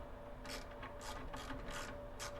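Rapid ratchet clicks in quick bursts as bolts are run down on a pan cover of an '83 square body truck, close and fairly quiet, with no voices.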